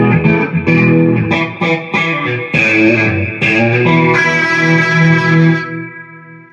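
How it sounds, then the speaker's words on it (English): Electric guitar through Victory V30 and V40 amps in stereo with a rotary speaker effect, loud sustained chords with a swirling, shimmering modulation, played alone for several seconds before fading. "rotary speaker."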